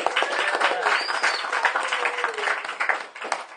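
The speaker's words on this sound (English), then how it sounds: "can we please have a round of applause for what you've seen" Audience applause after a comedy show, a moderate patter of clapping with cheers and a whistle rising over it, tapering near the end.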